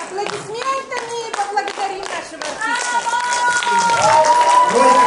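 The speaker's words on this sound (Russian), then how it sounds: "аплодисментами поблагодарим нашего артиста." A concert audience in Vishnevogorsk claps loudly for the performing artist, the applause swelling and growing denser toward the end while voices talk and call out over it.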